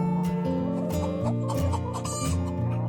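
Cartoon farm chickens clucking in quick, overlapping bursts, a busy cluster of hens close by, with no voices.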